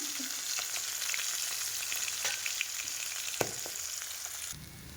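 Fish frying in a pan gives a strong, even sizzle with a few sharp crackles and a stirring scrape, easing off abruptly near the end, with no speech.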